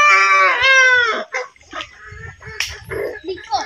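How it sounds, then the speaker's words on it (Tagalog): Rhode Island Red chickens on a farm give a loud drawn-out call up close, followed by scattered clucks and scuffling noises. "Ito pala yung mga bago silang manok dito."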